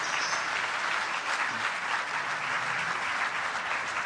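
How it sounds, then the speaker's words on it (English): Audience applause at a Nestlé award ceremony in 2016, a continuous even patter of many hands clapping at moderate level with no pauses. "Let's give them a round of applause, please."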